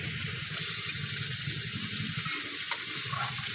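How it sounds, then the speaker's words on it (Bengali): Fish sizzles and spatters in hot oil in a pan, a steady close frying hiss with light stirring noises and no talking. "তেল দিলাম, একটু মাছ দিয়ে দিলাম, তরকারি মাছ দিয়ে দিলাম"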